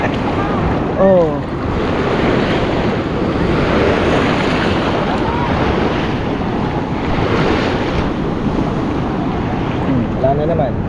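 Strong ocean waves roll and crash at a Siargao beach, a loud continuous wash of surf with heavy wind buffeting the microphone and brief voices in between.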